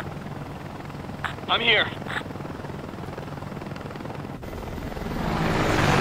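Helicopter rotor and engine drone in the video game Ace Combat: Assault Horizon, a loud steady thrum under a short spoken phrase and brief radio chatter, rising in intensity toward the end.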